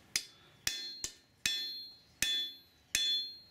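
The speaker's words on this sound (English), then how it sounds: "just drawing out that heel, constantly flipping positions, hitting it on both sides equally" Hammer blows forge a steel bar, drawing out the heel of a knife blade; six sharp, ringing metallic strikes land at a slow, steady pace, each followed by a short decaying ring, close and clear with no talk.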